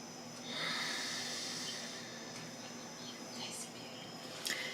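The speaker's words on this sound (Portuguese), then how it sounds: "Uma respiração longa." A long, slow, deep breath taken during a breathing exercise for anxiety. The airy, hissing breath swells early and holds steady for several seconds, close and fairly quiet, with no talking.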